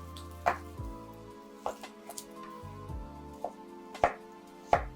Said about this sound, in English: let's start with dicing our onion